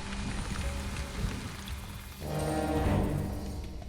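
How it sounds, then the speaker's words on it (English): Rain falls steadily on a jungle, a dense close patter of drops on leaves and surfaces that thickens and grows louder partway through. "In May, the rains came."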